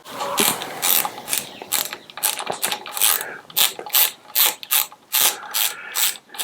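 A ratchet clicks in rapid bursts while driving T27 Torx bits to fit a Rok Form Perch mount on a 2012 Harley-Davidson Sportster 72, close and crisp, with short pauses between repeated turns.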